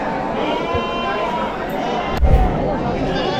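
Sheep bleat repeatedly amid a busy crowd at a large sheep and goat market in Chakan, Maharashtra, with people talking nearby and a brief thump partway through.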